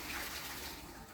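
A vessel dipped into cold water, a brief gurgling splash and rush of water, fairly faint and close, lasting about a second with no voices.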